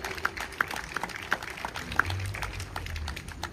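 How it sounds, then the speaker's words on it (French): An audience at a union meeting in Guadeloupe claps in scattered, uneven bursts, individual hand claps standing out near and sharp over a quieter crowd murmur, thinning out toward the end. "Nous applaudissons."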